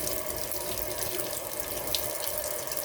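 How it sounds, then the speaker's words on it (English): Water from a tap runs steadily into a container, filling it with hot water at a moderate level, a continuous splashing rush with no voices. "now you're going to see me fill this with hot water"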